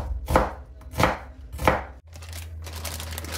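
Salad vegetables cut with a knife on a board in a home kitchen, three distinct close chops spaced about half a second apart, followed by a softer rustle of the pieces being moved.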